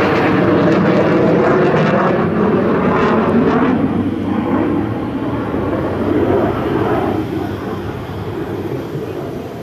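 Black Eagles aerobatic jets flying their airshow display and victory break give a loud, sustained roar. It swells and holds, then slowly fades as the formation passes.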